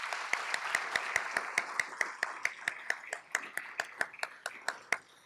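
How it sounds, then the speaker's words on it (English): A single pair of hands claps in a steady, evenly spaced rhythm, about three claps per second, crisp and close, against quiet room noise during a livestreamed awards event. "Let's give those folks a big round of applause."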